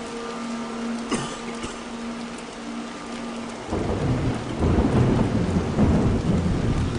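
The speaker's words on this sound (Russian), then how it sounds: "Ну вот, только сказал, что буря закончилась, и она опять..." Rain and thunder in the horror game Montague's Mount: a faint storm ambience with a sharp crack near the start, then a heavy downpour swells in loudly and continues steadily.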